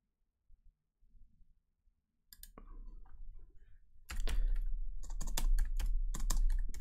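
Someone typing on a computer keyboard while coding a game in Pico-8: a few scattered taps at first, then rapid, close, clattering bursts of keystrokes that grow louder and denser toward the end, with no talk.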